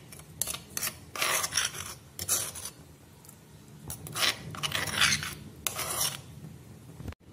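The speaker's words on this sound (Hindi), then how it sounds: "अब हम इसमें मक्खन में ये जो हमने लहसुन कूटा था ये डालेंगे।" Crushed garlic being added to butter while making garlic bread, with scraping and rubbing of a spoon against a bowl in irregular bursts, close and moderately loud with no talk.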